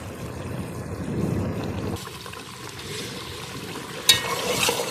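Camel meat karahi bubbling in a pan as it cooks down with little water left, stirred with a spoon: a steady sizzle and wet scraping, then a sharp metallic clink near the end.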